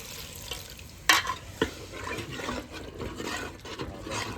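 Fish curry cooks and is stirred in a pan, with a steady soft sizzle and bubbling throughout and two sharp scraping clanks near the start.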